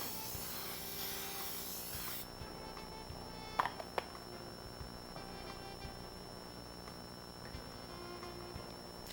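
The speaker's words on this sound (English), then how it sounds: "I will spray the bottom and the sides of the cake pan with some non-stick spray." A sustained aerosol hiss of non-stick spray onto a cake pan cuts off after a couple of seconds, followed by a few light clicks and faint handling noise.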